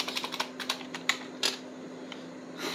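Rapid clicks of a computer keyboard being typed on up close, a quick burst of keystrokes followed by a few spaced presses and a final cluster, with no voices present.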